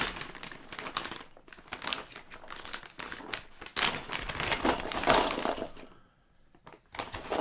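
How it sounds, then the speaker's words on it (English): A plastic bag full of dye-sublimated keycaps for a Model F keyboard being crinkled and handled, loud dense crackling in bursts that briefly drops to near quiet before resuming. "We got a plastic bag full of keycaps."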